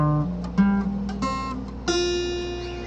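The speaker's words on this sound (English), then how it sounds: "I've actually tuned the guitar to all perfect fourths so that it sounds like this when you do open notes" A guitar tuned entirely in perfect fourths rings out its open strings one after another, several sustained, clear plucked notes layering into a resonant chord, close and fairly loud with no talking.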